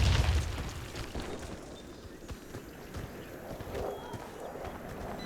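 A grenade blast in the Warface online shooter, during a clan match on the fortress map: a heavy, close boom right at the start, then quieter rumbling, footsteps and scattered game noise.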